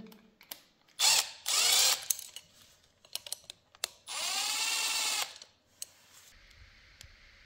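A Milwaukee power tool fitted with a 3 mm hex bit drives screws on a motorcycle front disc cover, giving two sustained whirring bursts of about a second each, separated by sharp clicks and ratcheting taps, close and loud with no talk.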